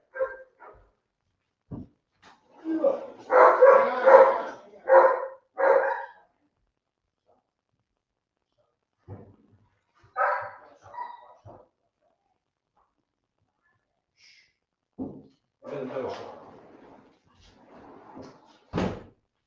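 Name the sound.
dogs barking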